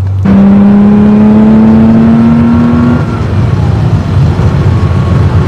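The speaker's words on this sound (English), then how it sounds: "That Porsche flat 6 engine does sound, you know, does have something going on with it" A Porsche flat-six car engine roars loudly at a steady high pitch, then shifts up and keeps droning with a rough, throaty tone, up close.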